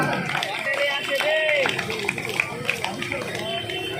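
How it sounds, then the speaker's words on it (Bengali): A crowd at a college freshers' welcome and annual cultural festival claps over lively chatter and babble, with voices and whistle-like tones running through the steady din. "সবাই জোরে হাততালি"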